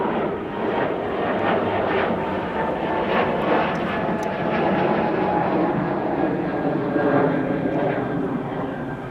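A United Airlines plane roars steadily on departure at Amsterdam Schiphol Airport. The loud, continuous engine rumble and jet noise hold for several seconds without fading.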